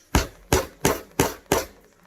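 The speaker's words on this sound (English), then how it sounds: "this is probably also where you're going to need a hammer." Five evenly spaced hammer strikes while upholstering an ottoman, sharp and close, each a crisp knock about half a second apart with no talk.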